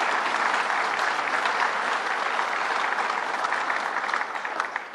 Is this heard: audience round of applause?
yes